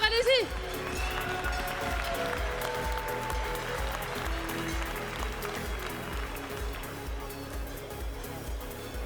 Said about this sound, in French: Vous pouvez les applaudir très fort, allez-y.